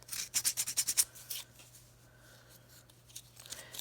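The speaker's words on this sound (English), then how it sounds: "we're just going to take a little piece of sandpaper and smooth it out." Sandpaper rubs over the edge of a piece of polymer clay in a quick run of about eight close, rhythmic scratchy strokes, then softer intermittent rubbing, with no talk.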